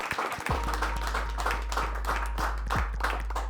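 Audience clapping for award winners at a product launch campaign awards event, scattered distinct hand claps repeating over a low steady hum, moderately quiet and somewhat distant.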